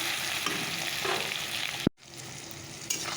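Chopped onion and tomato with salt fry in a pan, a steady close sizzle with stirring scrapes, cut by a sharp knock and a brief drop before the sizzle resumes.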